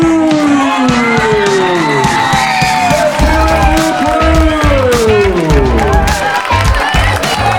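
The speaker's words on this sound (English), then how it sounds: "please, warm round of applause for our next workshop facilitator" A large workshop audience cheers, whoops and shouts loudly and continuously for an incoming facilitator, with some clapping mixed in and voices rising over the din.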